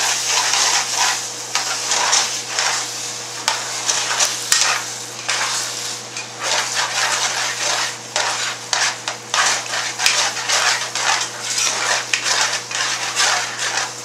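Spaghetti being stirred with American cheese in a pot, giving close, continuous wet squelching and scraping with intermittent sizzling and faint metallic clinks from the utensil against the pot.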